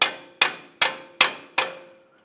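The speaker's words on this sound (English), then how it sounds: "Continue on with a hammer and punch. We'll put the punch right in the center and break the axle free from the wheel bearing." A hammer drives a punch against the center of a 1999-2002 Lincoln Navigator axle to break it free from the wheel bearing: five sharp, ringing metallic strikes at a steady, even pace, each decaying quickly, with no talking.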